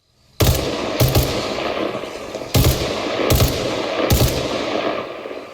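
Bursts of rapid gunfire in the video game Arma Reforger, five sharp volleys spaced irregularly, loud and close, with a ringing tail between them.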